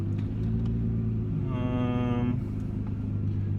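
A Nissan GT-R R35 with its GR6 transmission pulls at partial throttle in manual mode, its engine droning steadily and fairly loud from nearby. A brief, bright horn-like tone rises over the engine for under a second midway.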